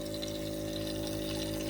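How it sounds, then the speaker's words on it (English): Steady hum of a pump with a continuous watery rush as water fills a home aquarium filter pipe, close and unchanging throughout, with no voices. "filling that water up the pipe. You see there it goes."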